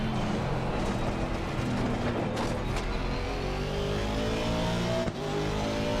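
A Volvo S60R engine in the BeamNG driving game runs loud and steady for several seconds at sustained high revs, its drone holding constant around the Nordschleife track without any pause.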